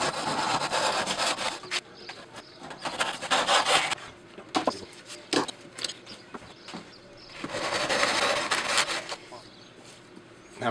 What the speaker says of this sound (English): time to trim these splines back